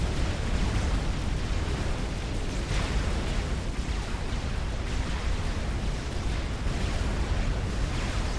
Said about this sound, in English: 3 Cerberus turrets wailing away on that Megabot